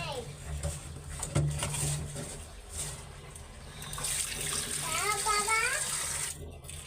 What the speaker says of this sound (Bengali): চাল ধুয়ে বসাই দিছি